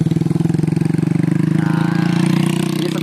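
A motorcycle engine runs steadily at close range, its low rhythmic chugging loud and unbroken, with a slight rise in pitch partway through and no voices over it.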